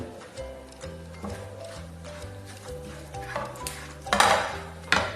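A spoon stirs fish pickle gravy in a pan with steady rhythmic scraping and clinking, close up, ending in a couple of louder metallic knocks, with no talk.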